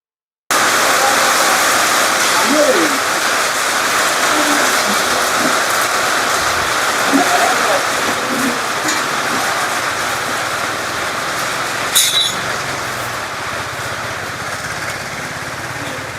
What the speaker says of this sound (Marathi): किती जोराचा पाऊस पडायला लागला.